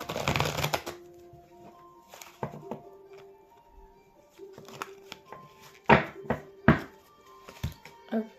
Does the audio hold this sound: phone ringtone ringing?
no